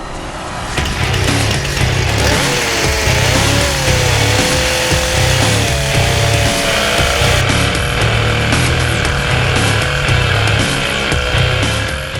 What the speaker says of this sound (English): I'm going to score lines on the tree with my chainsaw